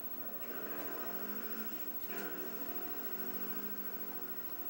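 A police squad car drives along steadily, engine droning at a faint, even level with a brief swell of road noise midway; no talk.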